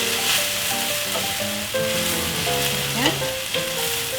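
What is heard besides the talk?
stirring soy sauce into a hot sizzling pan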